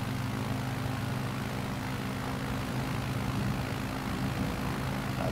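A Piper Cub light aircraft's piston engine and propeller drone steadily in flight, a loud, constant close-up hum with a low tonal buzz and no talking.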